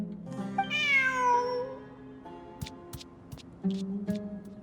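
A cat in a video game, during a ruins exploration event quest, gives one clear drawn-out meow near the start, followed by soft ticking clicks and a lower tonal hum later on.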